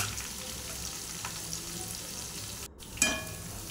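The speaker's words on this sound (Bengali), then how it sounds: "একটু নেড়ে ভেজে নিচ্ছি পেঁয়াজটা" Onions fry and sizzle in oil for a chicken milk biryani, a steady crackling hiss with a brief utensil scrape and clink near the end, close and alone.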